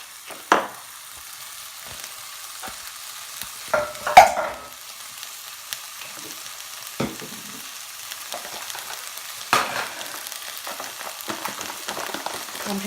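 Mushrooms sizzling in a frying pan while cooking a vegetarian Quorn lasagne, a soft steady frying hiss throughout with a few brief louder clatters of stirring, close by and with no talking.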